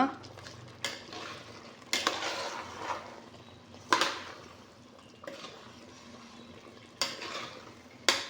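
Raw rice being stirred in a pot for chickpea pulao, with repeated scraping sweeps and clinks of a spoon against metal coming in irregular bursts over a quiet background.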